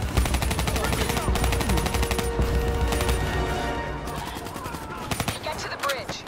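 Automatic and rapid gunfire crackles through a Call of Duty Black Ops 3 mission battle, dense bursts nearly continuous for several seconds under game music and ambient combat noise, easing slightly before a few sharp closing shots.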